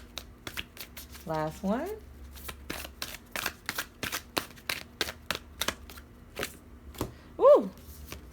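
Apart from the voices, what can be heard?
shuffling spirit animal cards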